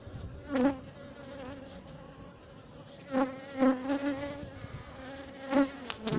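Honeybees from a queenless colony buzz around an open hive at Montgeron, a steady hum with individual bees swooping past close by in louder, pitch-bending passes.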